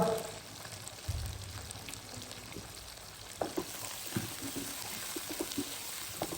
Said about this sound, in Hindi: प्याज के साथ ही मैं ये चिकन ऐड कर दूंगा इसके अंदर।